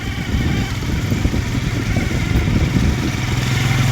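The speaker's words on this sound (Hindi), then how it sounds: "वसीम चला रहे हैं बाइक और मैं पीछे एंजॉय कर रहा हूँ" A motorcycle engine running steadily and loud while riding through the bazaar of Leepa Valley, a continuous rough mid-pitched drone with road rumble and no break.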